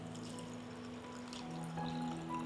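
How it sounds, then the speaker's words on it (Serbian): Water poured into glass jars as a steady, soft, continuous pouring rush that rises slightly in level toward the end, close and quiet with no talking. "Sipat ću vodu u tegle"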